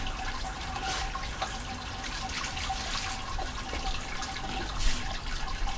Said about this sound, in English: here you can hear it just dribbling away into the boiler at the bottom